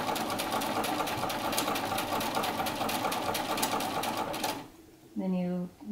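A sewing machine stitches a set-in sleeve in a rapid, steady mechanical whir for several seconds, then stops abruptly before a voice speaks briefly at the end.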